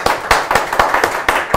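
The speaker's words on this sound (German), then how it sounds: "Wir haben Publikum, können wir mal applaudieren." A small audience claps briefly, with a handful of sharp, close hand claps arriving in an uneven rhythm.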